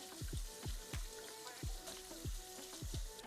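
Salmon sizzles steadily in a frying pan, a bright continuous hiss broken by regular low thumping knocks, with no one speaking.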